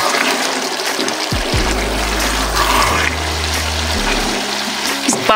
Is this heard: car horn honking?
no